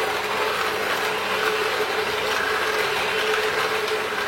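A machine whirs steadily while processing elderberries for elderberry jelly, giving a constant close grinding, rattling mechanical noise with no talk over it.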